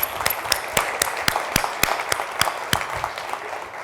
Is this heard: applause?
yes